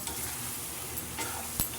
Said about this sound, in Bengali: ভাজা আলুগুলো আমি দিয়ে দেবো এর মধ্যে দিয়ে আবারও আমি ভালো করে কষিয়ে নেব